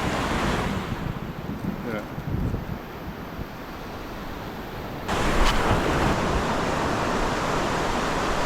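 Ocean waves washing onto a tropical shore, heard as a continuous broadband surge buffeted by heavy wind noise on the microphone, with a louder wash building in the second half.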